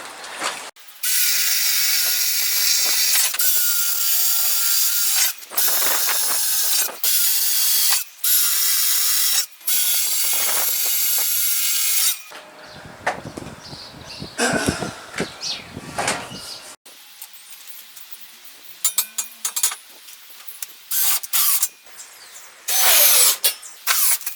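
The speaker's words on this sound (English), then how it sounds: "now let's get some holes drilled in the back of this and get that fixed up" A power drill boring holes into the back of a homemade wooden door to fit door runners, a loud steady whine in long bursts broken by short stops, then rattly mechanical handling and quieter intermittent drilling nearby.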